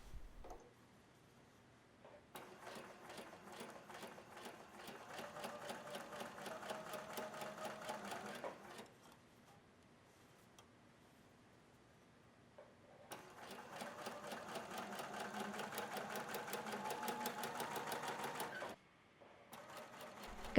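A twin-needle sewing machine stitches a swimwear neckline in two steady runs of rapid, even mechanical clatter, each a few seconds long, with quiet pauses between and no talk.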